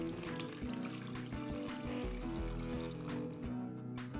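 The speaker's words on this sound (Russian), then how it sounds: "Теперь добавляем теплую воду с дрожжами." Warm water with yeast pours steadily into a container, a continuous trickling splash over soft background music.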